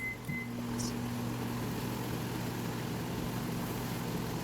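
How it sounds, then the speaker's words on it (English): A steady, low mechanical hum with a constant drone from a microwave oven heating food under a cover, continuous and moderately near with no talking. "So while that's going on the microwave"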